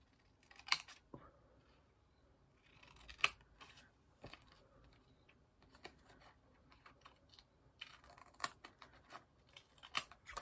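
Scissors snip through paper while a Christmas bookmark in pink and grey is trimmed, several sharp close cuts spaced out over a quiet background, with faint handling rustles in between.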